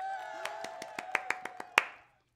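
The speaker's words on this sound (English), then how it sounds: "Clap for me." One person clapping hands in a quiet room, about ten sharp claps at a steady, slightly quickening pace, ending on a final louder clap before silence.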